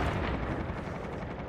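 Heavy rumbling blast from a grenade in Call of Duty Mobile, loud and dense at the start and rolling on as a sustained low roar through the short moment.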